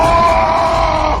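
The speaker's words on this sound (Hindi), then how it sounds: "आखिरकार गुस्से में झल्लाकर चीखा" A man screams in anger in a ghost-story setting, one loud, sustained strained cry with no pause across the whole moment.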